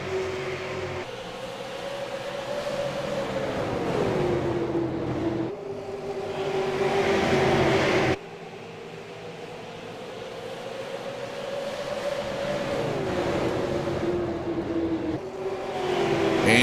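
Race cars accelerating at a green flag restart on lap 101 at Richmond: a steady engine whine climbs and drops through repeated gear changes, with one abrupt cut midway.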